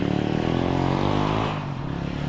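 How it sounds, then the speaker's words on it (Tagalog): A motorcycle engine runs nearby with a rough, steady drone that dips slightly toward the end; no one speaks. "Yung motor, ang ingay ng motor."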